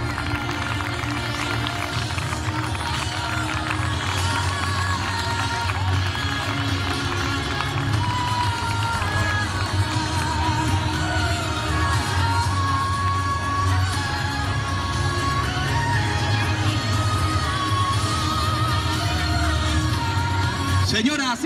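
Crowd applauding and cheering at a sports club season presentation, a continuous loud roar of clapping, whoops and shouts, with children's voices and talk mixed in throughout.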